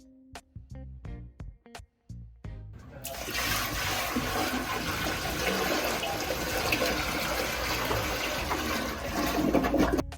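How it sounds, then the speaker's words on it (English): Buckets of drained aquarium water are emptied in a bathroom: a few clunks and taps come first, then a loud, steady rush of water fills the rest, like a toilet flushing. "After making multiple trips to the bathroom to empty the buckets of water"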